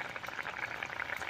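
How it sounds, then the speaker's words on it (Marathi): Chicken curry bubbles in a pot with a dense, steady simmering crackle at moderate, even loudness, with no voices. "हे बघा मित्रांनो, आता भाजीला उकळी फुटली."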